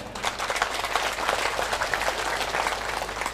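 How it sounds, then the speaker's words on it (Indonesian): A hall audience claps steadily for about three seconds, a dense, even wash of hands with no voices on top. "tepuk tangan tidak terlalu kuat karena belum makan siang"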